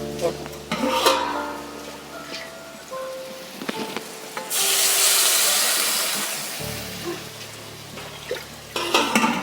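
Water poured into a pan of frying hilsa fish curry, a loud hissing sizzle surging up midway after some stirring and utensil clatter, then settling into a softer bubbling.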